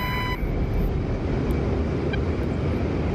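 Jet aircraft engines roar steadily during takeoff in the DCS flight simulator, a loud continuous broadband rush with a faint tonal whine and no voices over it.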